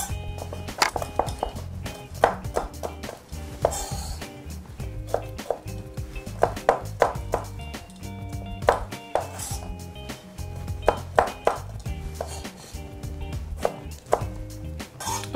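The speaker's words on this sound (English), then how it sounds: "And then you slice these up." Knife slicing fresh tomatoes on a cutting board in a home kitchen, with a steady run of light, irregular taps and clicks of the blade meeting the board, close and moderately loud, with no voices.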